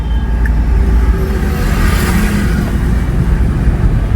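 Steady engine drone from a car driven by a learner at a driving school in Phagwara, shifting into third gear and gaining speed, loud and continuous with a deep low rumble and no talking.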